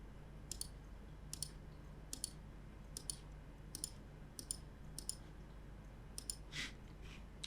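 Mouse button clicks while working in Houdini software, about ten crisp, quiet clicks spaced roughly every half second to second against a faint low hum, with no talking.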